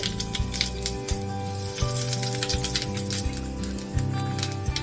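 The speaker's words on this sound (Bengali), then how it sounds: "এবারে ফোড়ন দিয়ে শুকনো লঙ্কা একটা দিয়ে দেবো, গোটা জিরে" Whole cumin and a dried red chilli sizzle in hot oil as a tempering, a loud, close crackle and spatter with a pulsing low hum underneath, and no talk.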